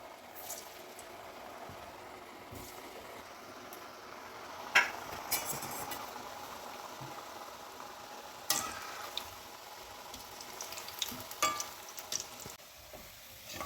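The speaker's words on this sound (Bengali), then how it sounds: "কড়াইয়ে তেল বসিয়ে দিয়েছি, তেল গরম হয়ে গেছে। এরপর পুলিগুলো তেলে ছেড়ে দেবো।" Mung dal puli pitha fry in hot oil in a wok, with a soft continuous sizzle and bubbling. Several sharp clinks and scrapes of a stirring utensil come through, the strongest a few seconds in and again later.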